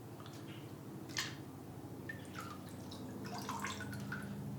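Water drips and splashes as a Post-it note is dipped in water, scattered small drops and trickles over a low steady background hum, close and fairly faint.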